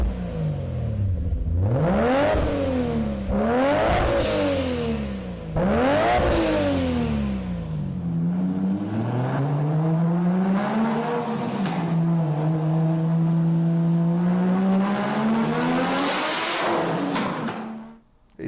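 A turbocharged car engine revs hard several times in rising and falling sweeps, then holds a long, loud, steady drone, close and dominant with no talking.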